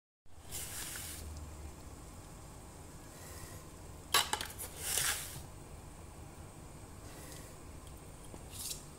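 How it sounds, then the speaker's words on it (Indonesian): Bananas being cut for kolak pisang, a sweet Indonesian banana dessert, in a home kitchen: a few sharp knife and utensil clinks against a dish amid quiet room tone, no speech. "kita potong-potong pisangnya dulu ya"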